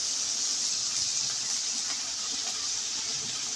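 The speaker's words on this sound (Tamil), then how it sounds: "அது பொரிஞ்சோடனே வெங்காயத்தை கொட்டணும்" Onions tipped into hot oil already frying cinnamon and cloves give a steady, bright, even sizzle that carries on without a break.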